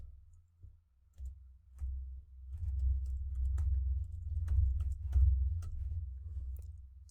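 Fingers tap out a word on a computer keyboard, a quiet run of light clicks over a low background hum, with no one speaking.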